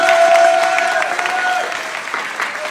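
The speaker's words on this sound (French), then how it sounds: "D'applaudissements pour vous-même, les participants!" A crowd at a singing contest claps for the participants, a dense burst of applause that starts loud and slowly tapers over a few seconds.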